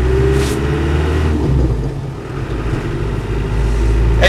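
A Land Rover 110 with a 200Tdi diesel engine idles nearby in a steady, loud, low rumble, with a couple of brief clanks and a slight swell near the end.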